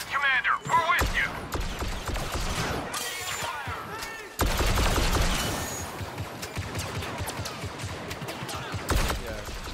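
Rapid blaster gunfire from a firefight on Endor in Star Wars Battlefront II, dense bursts of shots with sharp cracks and a heavy barrage swelling midway, close and loud, with brief voices mixed in.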